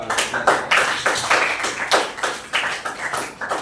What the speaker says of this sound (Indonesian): berikan dulu tepuk tangan buat keempat orang ini